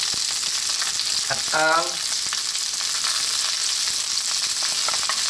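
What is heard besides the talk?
stir-frying cauliflower, Baguio beans and carrots with canned tuna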